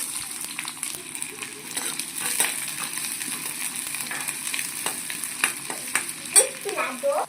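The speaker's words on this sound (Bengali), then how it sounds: "যে লঙ্কা পেঁয়াজটা ভাজা হয়ে এসছে" Onion and chili fry in hot oil, making a continuous close crackling sizzle with frequent scraping stirs and a few sharper clatters toward the end.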